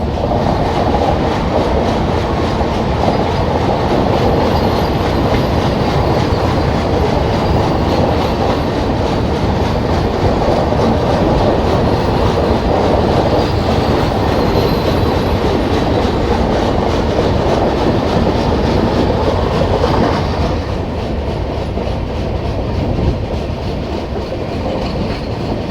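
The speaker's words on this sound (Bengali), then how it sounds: "আমাদের ট্রেন মালদা ঢোকার আগে মহানন্দা নদী পার করছে" The Kamakhya–LTT Karmabhoomi Express rolling over the Mahananda river bridge before Malda, heard from on board as a loud, steady rumble with rhythmic wheel clatter that drops in intensity near the end.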